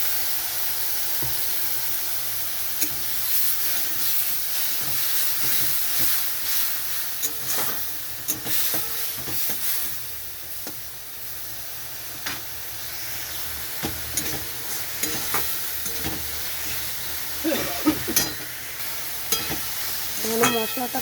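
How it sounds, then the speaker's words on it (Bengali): Spice paste frying in a pan with a splash of water for a bhujia curry, a sustained steamy sizzle and hiss with irregular bursts of scraping and stirring, close and fairly loud, no voices. "মশলাটা কষানোর জন্য এখানে একটু জল দিয়ে দিচ্ছি।"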